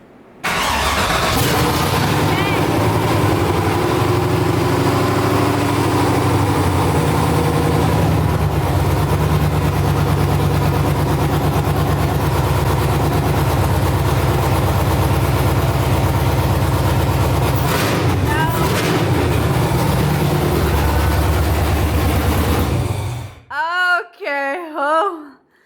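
A Toyota Cressida fitted with an LS engine fires up for the first time, a loud, sustained rumbling idle with a throttle blip midway before cutting off, followed by voices talking.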